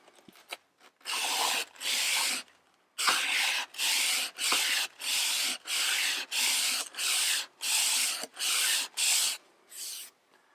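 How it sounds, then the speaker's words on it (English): Back-and-forth scrubbing of 180 grit sandpaper wrapped on a dowel inside a cutting board's juice groove, about ten steady, loud rasping strokes in an even rhythm, close up with no voices. "Just going to wrap it in some 180 grit, and then basically just kind of back and forth."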